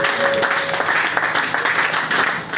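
A church congregation at a French-language Sunday service bursts into sustained applause, a dense, steady patter of many hands clapping together at moderate distance, holding evenly before tapering slightly at the end.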